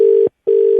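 A steady telephone tone as a call is cut off, sounding as two beeps split by a short silent gap, loud and close with no voices.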